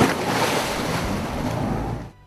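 Open ocean waves during US Marine Corps combatant diver training, a loud continuous wash of surf with wind buffeting the microphone, fading slightly at the end.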